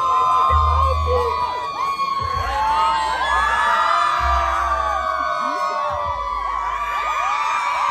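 A large crowd at the Netflix Tudum 2023 fan event in Brazil shouts and cheers continuously, loud whoops and yells overlapping across the whole stretch with a steady low rumble underneath.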